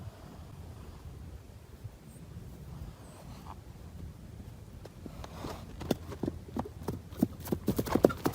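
A horse's hooves clop faintly over wind noise, the steps growing more distinct and irregular toward the end.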